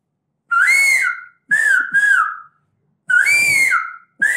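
A person whistles to mimic the call of a crested serpent eagle, giving loud, clear, drawn-out notes in separate bursts with pauses of silence between them.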